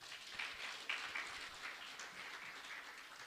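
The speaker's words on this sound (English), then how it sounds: "And we clap for her again." Audience clapping at a Kenya nurses and midwives conference in the UK, a faint, fairly even patter of applause heard from a distance over a few seconds.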